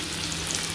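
King fish frying in a pan, a short burst of steady crackling sizzle at even loudness with no voices.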